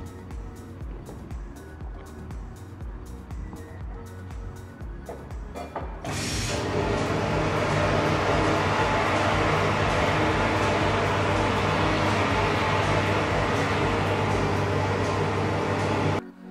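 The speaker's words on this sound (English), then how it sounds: "These machines use pressurized water to blast glass beads onto non-ferrous metals in order to clean and polish them with amazing results" A vapor honing machine blasts glass beads in pressurized water onto a BMW M20 valve cover, starting with a sudden jump into a loud, constant roaring hiss that holds steady for about ten seconds after quieter machine hum.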